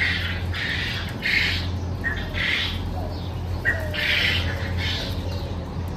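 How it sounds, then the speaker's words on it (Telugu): A crested garden bird gives repeated harsh squawking calls in short bursts, fairly near, over a low steady background hum. "ఇదిగోండి పక్షి అన్నాను కదా, ఈ ఒక రకమైన పక్షి."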